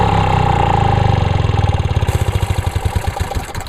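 A two-stroke lawnmower engine fires up with a loud, steady drone, then settles into a rapid, pulsing putter that fades slightly toward the end, close by and alone.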